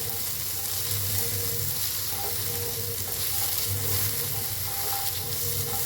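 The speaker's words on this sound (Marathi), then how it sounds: "भाजून घेऊया" Ginger, green chillies and garlic fry in oil in a pan with a steady, close sizzle and crackle that runs unbroken throughout.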